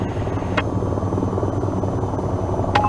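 A helicopter's rotor in the flight simulator VTOL VR produces a steady, loud, rhythmic thudding drone close to the listener, with faint cockpit clicks and no speech.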